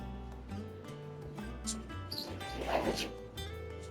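Dogs in Final Fantasy XVI gameplay: a few short barks and yips over a droning game music bed, fairly faint, with a voice speaking at times.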